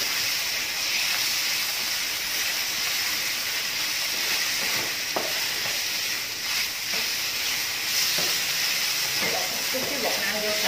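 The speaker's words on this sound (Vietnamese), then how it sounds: "Bây giờ anh sẽ để thịt vào xào" Sliced meat marinated in soy sauce and tapioca starch sizzles loudly in a hot wok for stir-fried Malaysian Hokkien black noodles, a steady close hiss throughout with occasional clatter of stirring.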